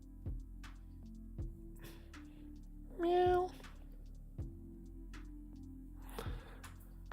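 A person's voice imitates a cat, giving one drawn-out meow lasting about half a second, set against a backdrop of low, regularly spaced thumps.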